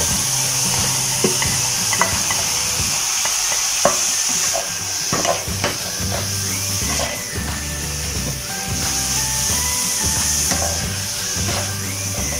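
Carrot, taro, pumpkin and long beans stir-fried in a pan for a tuna basil dish, with steady sizzling and frying hiss plus repeated scraping and stirring knocks of a utensil throughout.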